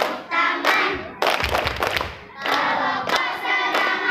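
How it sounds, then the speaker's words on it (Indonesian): Children at a primary school scouting activity clap their hands in bursts along with a sung clapping song, the claps coming in quick rhythmic clusters between pauses, close and fairly loud. "kalau kau senang hati tepuk tangan"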